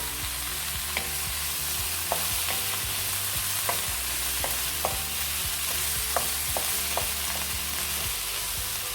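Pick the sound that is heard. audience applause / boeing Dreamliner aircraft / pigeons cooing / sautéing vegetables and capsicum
sautéing vegetables and capsicum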